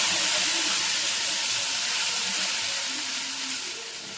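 Tomato, green chilli and ginger paste sizzling in hot oil, a loud, close, continuous hiss that eases slightly toward the end, with no talking.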